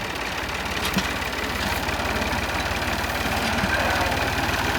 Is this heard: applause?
no